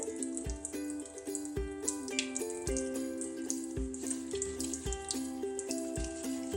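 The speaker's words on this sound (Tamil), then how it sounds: "இப்போ என்னுடைய தலைமுடியை வந்து நான் வாஷ் பண்ணி காமிக்கிறேன் உங்களுக்கு." Hair washed with homemade aloe vera shampoo under running water, a steady tap flow with splashing, heard over background music with a regular thumping beat.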